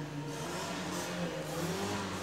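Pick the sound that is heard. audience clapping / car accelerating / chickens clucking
car accelerating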